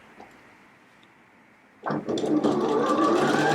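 After a quiet start, a sewing machine starts up and stitches jacket fabric toward the next pin, its steady whirring motor running close and loud.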